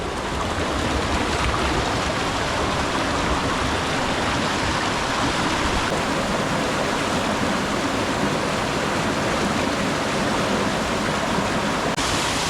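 Mountain stream in Istria, Croatia, rushing steadily over rocks near a waterfall, a loud, continuous broadband roar of flowing water with no pauses, close and unbroken throughout.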